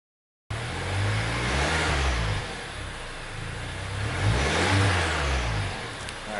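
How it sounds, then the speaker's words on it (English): A stock 2022 Mazda3 turbo exhaust revs twice in a row, each climb swelling and falling back, loud and close with no one talking. "Alright, so that's all you get from the exhaust."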